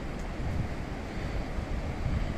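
The Ganga at Gangotri rushes steadily nearby, a broad continuous roar of churning mountain river water with no pauses or speech.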